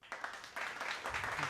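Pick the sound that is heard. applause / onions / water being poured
applause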